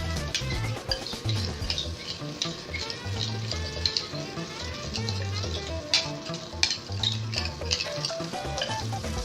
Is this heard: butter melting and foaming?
yes